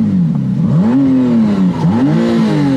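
The V6 hybrid engine of a McLaren Artura, started in sport mode, revs loudly and close up, its tone climbing and dipping in several rises and falls with a gritty rumbling note throughout.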